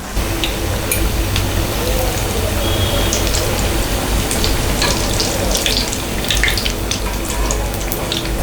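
Masal vadai lentil fritters fry in hot oil over a medium flame, a dense, continuous bubbling sizzle with scattered sharper crackles and pops, close and steady throughout.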